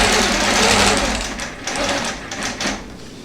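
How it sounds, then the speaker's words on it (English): A long-arm quilting machine on a frame stitches a facing onto a quilt, giving a loud, rapid, steady mechanical whir that runs continuously, with slight speed changes and brief dips. "But I can stitch close to the edge."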